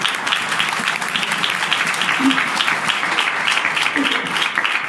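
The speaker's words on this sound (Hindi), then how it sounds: "ये ताली बजाकर बताएं ऐसे ही" A seated audience at a sermon claps hands in a sustained, dense round of applause that stays fairly loud and even from start to finish.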